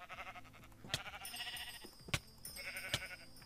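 Minecraft sheep bleat repeatedly over game music, with a few sharp hits standing out; no talking.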